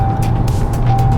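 Skoda Octavia RS on a race track, its engine droning steadily with a few quick rises and dips as it downshifts, close and loud with no talk.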